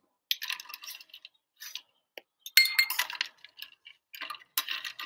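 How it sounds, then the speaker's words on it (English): Ice cubes dropped into a cocktail shaker while mixing a gin drink, bright glassy clinks and rattles arriving in irregular bursts with short silences between, close and crisp. "Put plenty of ice in a cocktail shaker."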